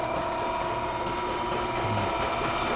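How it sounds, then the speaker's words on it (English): A GEA Niro Soavi high pressure homogenizer with a two-cylinder pump runs at very high pressure, giving a steady, loud mechanical clatter with ratcheting, gear-like ticks throughout, close by and with no talking. "So right now our first pump is running here."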